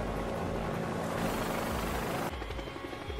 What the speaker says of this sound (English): so that chopper is here